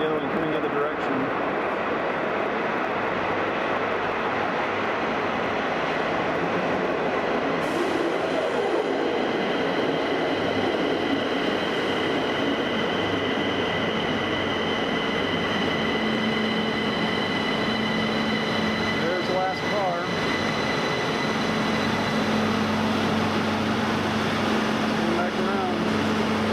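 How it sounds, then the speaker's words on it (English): A subway train draws into an underground station in Spain, a steady loud rumble and hiss of the rolling cars filling the platform, with a faint rising whine late on. "Our train just left, and here's the other one coming the other direction."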